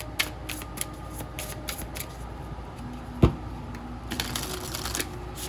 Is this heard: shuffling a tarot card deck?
yes